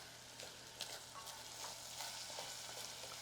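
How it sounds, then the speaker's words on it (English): Rice is stirred in a pan of hot oil with onion and garlic, a steady close sizzle with a few soft scrapes of the spoon, and no talk. "I'm gonna give this a little stir just to coat the rice with the oil, the onion, the garlic"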